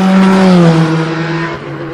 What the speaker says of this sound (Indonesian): Wow, mobil balap F1.